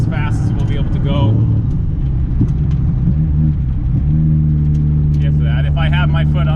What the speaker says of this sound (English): every time I give it throttle, it is not happy, and this is full throttle right here.